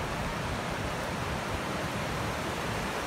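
River water rushing over an old Spanish-built diversion dam in Texas, a steady, broad hiss of flowing water, continuous and fairly close with no other sounds.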